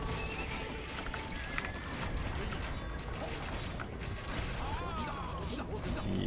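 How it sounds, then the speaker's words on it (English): Horse hooves clip-clop and horses neigh in a strategy video game battle, with steady galloping and whinnies layered over dense game noise alongside a talking voice. "Yeah, my horses are getting killed pretty quickly here."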